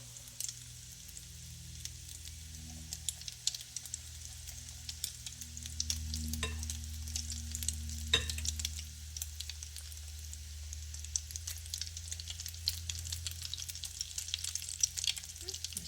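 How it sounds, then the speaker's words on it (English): Oatmeal burger patties held together with egg brown in hot frying oil, giving a steady, fairly quiet sizzle with a few soft clinks of a utensil, and no one speaking. "So we're just gonna brown them on each side, remove them from the oil, pat them dry."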